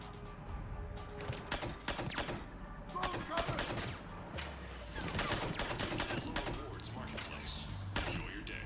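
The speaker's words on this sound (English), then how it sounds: "The sound this gun makes is very interesting." Gunfire in a video game, repeated bursts of sharp rapid shots with clicking mechanical noises between them, steady and fairly loud, with a voice speaking over parts of it.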